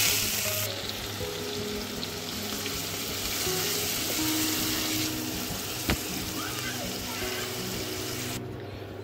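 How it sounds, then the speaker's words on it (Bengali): Chopped onions sizzle and crackle in hot oil left over from frying chicken, a steady close frying hiss with faint kitchen clatter beneath, no speech. "তেলের মধ্যে দিয়ে দিচ্ছি কুচনো পেঁয়াজ"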